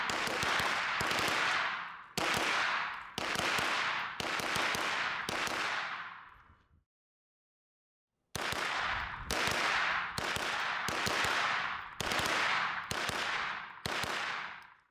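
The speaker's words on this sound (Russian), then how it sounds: "Сейчас проверим кучность всех трех карабинов, отстреляв мишень на 15 метров." Rapid bursts of carbine fire, including a KRISS Vector, shot at a target 15 metres away, ring out loud and close in several quick strings, broken by a brief pause before more bursts.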